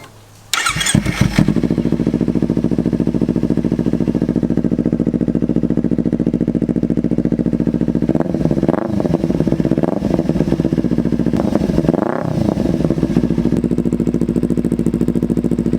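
A 2014 Kawasaki Ninja 300 motorcycle with an MGP aftermarket exhaust starts and settles into a loud, steady idle with a deep rumble, revved briefly twice near the end, close by with no talking.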